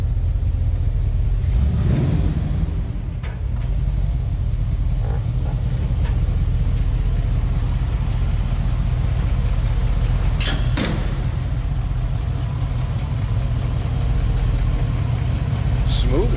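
A 1934 Plymouth Coupe street rod with aluminum heads idles smoothly, a steady low rumble running throughout with a few brief sharper sounds near the start and middle.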